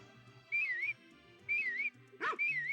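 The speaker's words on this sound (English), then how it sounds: "L1 is the whistle for the dog" Three warbling dog-whistle calls in the Harvest Moon video game, repeating about once a second over gentle background music, with a brief dog-like yelp overlapping the last whistle.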